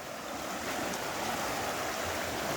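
Floodwater rushes through a swollen river, giving a continuous, dense roar of turbulent water, steady and fairly faint, with no voices.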